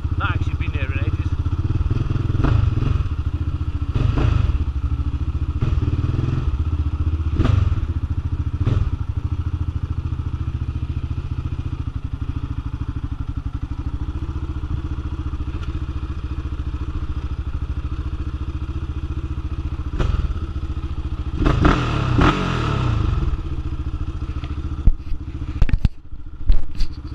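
A repaired Yamaha Raptor 700R quad bike rides through Birmingham streets with a continuous close, low engine rumble, brief throttle surges and rattles, and a voice talking at times over the motor.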